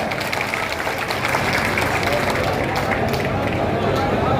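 Steady applause from a large crowd at a political conference welcoming a minister, dense and continuous throughout, with a murmur of voices mixed in.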